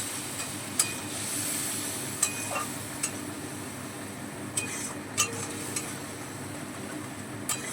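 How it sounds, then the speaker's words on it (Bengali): Spices and a little water stirred in a pan for a vegetarian Bengali potato curry, with steady soft scraping and a few sharp metallic clinks of the spoon against the pan over a constant low sizzle. "এবার সমস্ত মশলাগুলো একটু নেড়ে চেড়ে নেব।"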